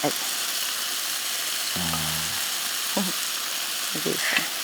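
Potatoes stir-fry with minced garlic over high heat, a loud, even sizzle running throughout, while people talk briefly over it.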